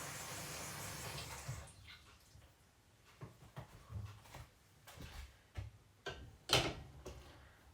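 Water runs into a container to be boiled for making chocolate treats, a steady rushing pour at first, then fading into scattered knocks, drips and handling clatter close by, with no voices.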